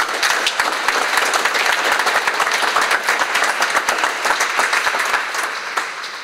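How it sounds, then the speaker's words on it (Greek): A seated audience at a company meeting applauds, dense steady clapping that fills the room at full volume and only starts to thin out at the very end. "θέλω πρώτα το χειροκρότημα"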